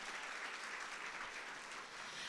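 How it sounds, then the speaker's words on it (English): An audience at a Los Angeles Success Academy marketing event applauds, a steady, fairly faint spread of many hands clapping with no speech over it. "Give them a big round of applause."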